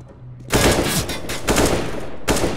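Rapid bursts of automatic gunfire in a first-person shooter video game, three loud clustered volleys separated by short gaps.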